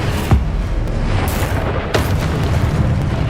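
Spell blasts in Hogwarts Legacy, a few sharp booming impacts over a constant loud rumbling game backdrop, with no voices during the blasts.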